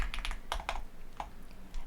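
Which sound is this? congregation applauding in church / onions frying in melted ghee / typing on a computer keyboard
typing on a computer keyboard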